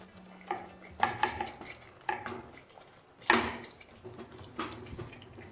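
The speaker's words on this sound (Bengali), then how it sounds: "ব্যাস এই স্টেজে আমি এখানে দিয়ে দেবো সেদ্ধ করে রাখা আলুগুলো।" Boiled potatoes are dropped into a spiced doi aloo masala in a pan. A few soft thuds and clatters against the pan are followed by spoon scrapes, over a faint sizzle, close and fairly quiet, with no voices.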